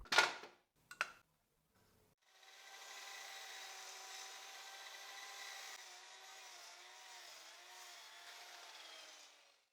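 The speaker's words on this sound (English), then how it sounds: "here at the miter saw, I'll cut a section that's 4 centimeters long" A miter saw cuts a short section of Brazilian pine. A couple of sharp clicks come first, then after a short pause the blade whines steadily through the wood for several seconds, fairly quiet and with no talk.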